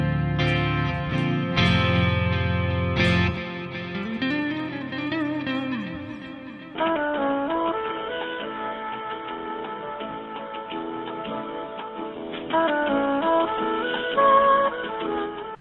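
A clean electric guitar plays ringing notes and chords after a few opening strums, bright and undistorted, with no voices.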